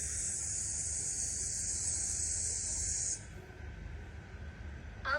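A voice imitates a lawn sprinkler's steady whispering, a continuous close hiss held for about three seconds before it cuts off into quiet.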